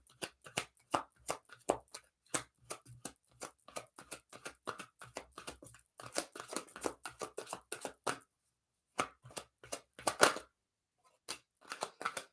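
Tarot cards shuffled by hand, a long series of crisp riffling bursts and soft slaps in uneven rhythm, close and clear, with a few short pauses between shuffles.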